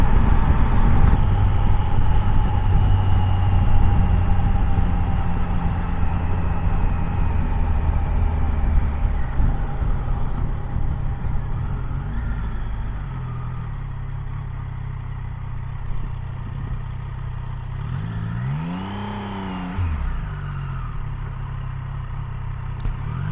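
A Triumph Tiger 800 Sport motorcycle engine and exhaust drone steadily throughout, loud and close with a throaty rumble and a rising and falling engine note, then easing slightly, with a passing vehicle sweeping by near the end.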